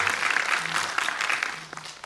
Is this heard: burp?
no